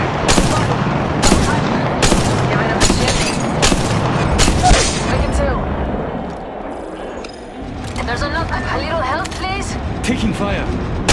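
Rapid gunfire bursts crackle through an Apex Legends Mobile firefight, with repeated sharp shots and booms, a brief lull midway, then more shooting under game voice lines.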